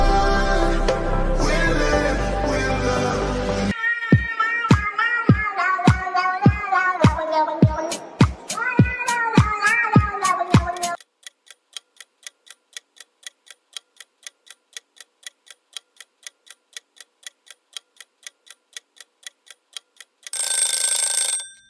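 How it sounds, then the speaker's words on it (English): A Security Cat meme song plays loudly: a dense musical intro, then a run of sharp plucked or meow-like notes, then a long stretch of quiet steady clock-like ticks, ending in a brief loud burst. "that's right, it's a security cat."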